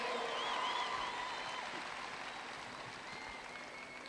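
Audience applause at a woodchopping competition at the Sydney Royal Show, a faint, distant, steady patter of clapping that slowly fades.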